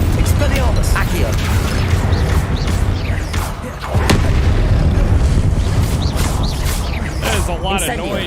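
Spell blasts and booming explosions from the Hogwarts Legacy video game, a dense run of loud bursts and crashes over steady game music, with no break throughout.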